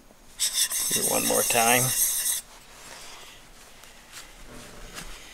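A WoodRiver 5 1/2 jack plane blade being honed on a stone for a secondary bevel: a loud rhythmic rasping scrape of a few strokes, then quieter rubbing, with a short spoken line over it.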